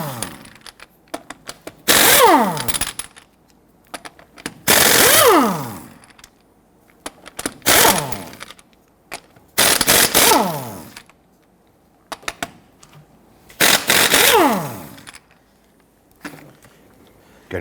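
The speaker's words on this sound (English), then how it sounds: "Using a 19mm socket, I'm going to go ahead and loosen and remove our lug nuts." Pneumatic impact wrench with a 19mm socket loosening and spinning off lug nuts on a 2006-2010 Hummer H3 front wheel, five loud close bursts of rattling hammering each lasting about a second, separated by brief quiet pauses.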